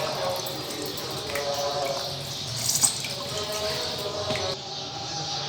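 Soaked moong dal dahi bara are pressed by hand so that water and oil run out, producing a steady close trickle and drip into a bowl with a faint splashy hiss throughout.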